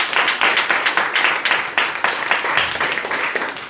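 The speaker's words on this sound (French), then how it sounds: "Si vous comprenez, acclamez le Seigneur." A church congregation claps loudly and rhythmically, many hands together in a close, steady beat of acclaim.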